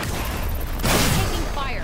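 Gunfire in the battle royale shooter Apex Legends, a burst of shots bursting out mid-clip over steady game ambience, with a voice line heard shortly after.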